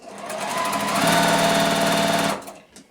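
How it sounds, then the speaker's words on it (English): A sewing machine stitches along a drawn line on a flying geese quilt block, running as a loud, close, steady rapid mechanical chatter for over two seconds before stopping abruptly. "So I'm just going to stitch on that drawn line."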